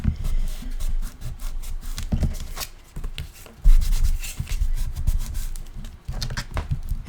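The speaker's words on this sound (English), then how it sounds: "I like to burnish it really well, especially up in the tab area, to make sure it's really glued together" Burnishing tool rubbing firmly over freshly glued paper on a handmade mini album, a close, steady rhythm of scraping strokes with short pauses between passes and no talking.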